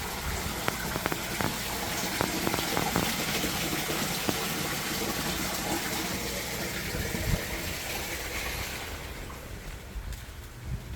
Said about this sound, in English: front porch waterfall